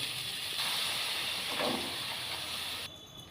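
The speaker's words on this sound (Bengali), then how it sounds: "এবার এর মধ্যে জল দিয়ে দেবো।" Water poured into a hot pan of soybean malai curry sets off a loud, broad hiss of steam that holds steady for a few seconds, then drops off sharply to a faint simmer.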